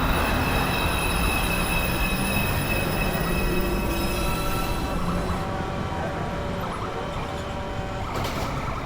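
A New York City subway 2 train of R142 type at the elevated 207 Street station in Manhattan, with steady loud wheel and motor rumble, high squealing tones from the wheels, and no talk over it.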